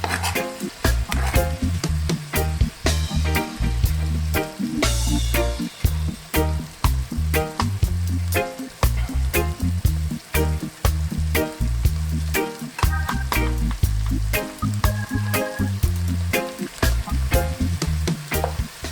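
Corned beef and cabbage sizzle and fry steadily in a pan, with loud, continuous crackling and spitting broken by the scrape and clatter of stirring throughout.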